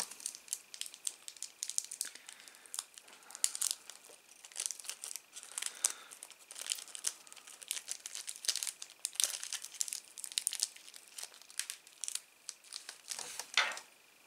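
A plastic bag holding model kit parts for an Alpha Jet scale model crinkles and rustles steadily as it is handled and opened, with dense close-up crackling and a few sharper snaps toward the end.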